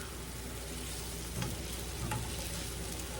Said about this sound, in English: We're going to get this, get it stirred up good